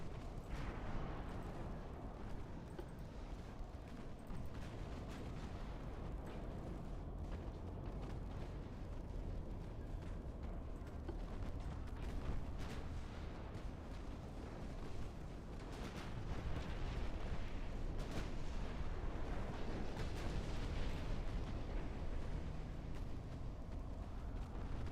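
Battleship 11-inch naval guns firing in Ultimate Admiral Dreadnoughts, a continuous distant rumble of heavy cannon blasts and booms rolling over one another, swelling louder toward the end.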